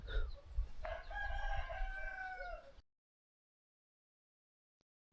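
A rooster in a Kazakh village crows loudly and close by, one long drawn-out call with rising and falling harmonics, followed by near silence.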